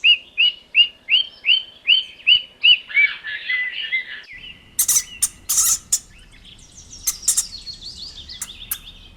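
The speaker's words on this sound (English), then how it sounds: "Parrot." A parrot calls in a quick, regular run of about ten sharp chirps, loud and close, then gives a few harsher, scattered squawks and bursts.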